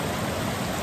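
Cottonwood Creek below the Grand Canyon rim runs over a small waterfall, giving a steady, even rush of water that fills the whole moment with broadband hiss.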